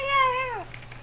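A human voice imitating fighting cats gives a single drawn-out, yowling meow whose pitch slides downward at the end, brief and fairly close.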